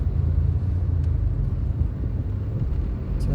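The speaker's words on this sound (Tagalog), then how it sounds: "parang paumpisa na yata ang traffic" Steady low rumble of road traffic building up, with car engines droning continuously and no voices over it.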